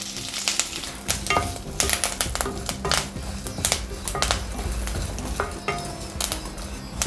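Urad dal and a handful of curry leaves roast in a pan with oil, giving steady close sizzling crackle broken by repeated scraping stirs and light clinks of a spoon against metal, no voices.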